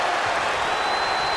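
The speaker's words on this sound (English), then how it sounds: "Listen to this crowd." A WWE 2K24 elimination chamber match crowd roars and applauds in a steady, loud wash of cheering, filling the whole moment with a faint high whistle tone running through it.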